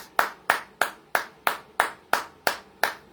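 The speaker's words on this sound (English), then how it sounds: "Round of applause." Rhythmic single-person clapping, about nine sharp even claps at a steady pace, close and alone.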